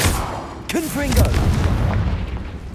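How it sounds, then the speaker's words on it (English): A Confringo fire spell blasts in Hogwarts Legacy, a burst of game combat noise with a booming impact and crackling tail, while a voice calls out over the effects. "Confringo!"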